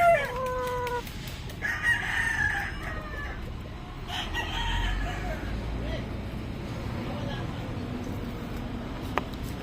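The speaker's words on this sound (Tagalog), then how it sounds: "May papunta dito mga manok." Backyard chickens clucking with a rooster crowing, several bird calls close by at the start and then fainter, over a background murmur of voices.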